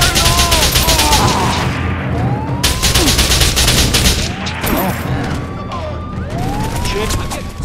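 Dense gunfire fills a battle in Mercenaries 2: World in Flames, with rapid bursts, a wailing siren-like sweep, and shouting voices mixed in, all loud and close.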